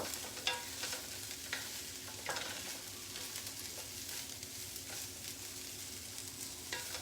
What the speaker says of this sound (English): just keep stirring these frozen vegetables in the hot skillet